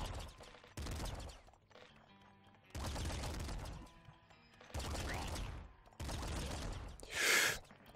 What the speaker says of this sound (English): It's a triple machine gun, man.